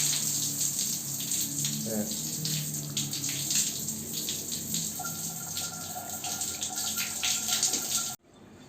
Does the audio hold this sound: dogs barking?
no